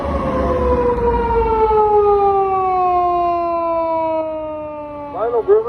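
A Saitama Prefectural Police 210-series Crown patrol car sounds its siren close by, a loud wailing tone sliding slowly downward in pitch over several seconds before a short yelp burst at the end.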